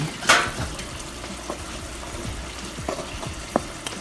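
Coconut milk cooking down into coconut oil, giving a steady low sizzle and bubbling with occasional pops and stirring clicks, close up, with no talk.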